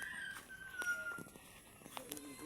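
A rooster crows outdoors on a rural farm, the call fairly distant and mid-level, with faint bird and clucking sounds around it and no talk over it.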